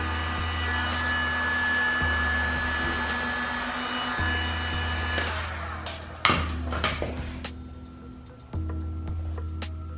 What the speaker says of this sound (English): I'm going to go do post heat real quick.